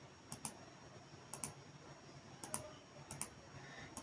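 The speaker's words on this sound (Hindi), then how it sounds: "और नीचे हम क्लिक करेंगे" Mouse clicks in GeoGebra software: several faint, sharp clicks in small pairs spaced about a second apart, close up against a quiet background with no talk.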